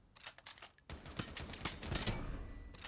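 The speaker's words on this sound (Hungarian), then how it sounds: "Hát ez két lövés kellett" Gunfire from a DR-10 sniper rifle in the Lost Light shooter game crackles in quick sharp bursts, with a dense volley after the first second over ambient game noise.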